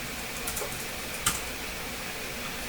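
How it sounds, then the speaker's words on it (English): A few soft keyboard clicks sound sparsely over a constant background hum, with one sharper tap standing out. "And I am typing,"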